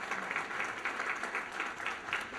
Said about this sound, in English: Nice round of applause for Silverton Hospital Network.